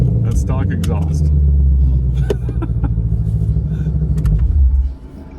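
A 2020 Ford Mustang GT500 with a dual-clutch transmission and stock exhaust rumbles deeply from inside the car, a heavy low drone that swells and then drops off near the end, with voices talking over it.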